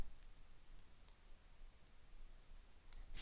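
A computer mouse clicks faintly and sparsely during editing work in Flash Catalyst software, a few soft, isolated ticks in a quiet room.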